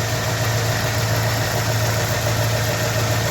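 A 1967 Ford Mustang V8 engine idles steadily at close range, a dense, even rumble with no speech over it.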